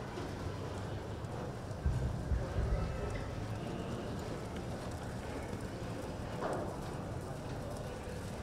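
Horse hooves clip-clop in a rhythmic run during a Freio de Ouro youth riding competition, muffled and somewhat distant under steady crowd and arena noise.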